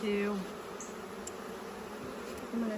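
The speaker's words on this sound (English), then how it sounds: "kind of a lot of bee action going on out here that I don't really like" Steady buzzing of many honeybees close by, a continuous droning hum with a faint voice briefly at the start and end.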